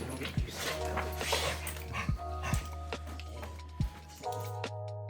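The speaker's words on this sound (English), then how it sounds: "My dogs mean the world to me." Pet dogs bark and whimper, with several sharp near barks spaced irregularly over a whiny, tonal whimpering background.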